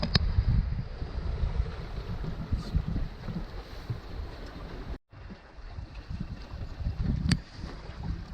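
Sailboat at sea under way on a Biscay passage at dusk, steady wind roar over the microphone and rushing water along the hull, loud and continuous with a brief dropout midway.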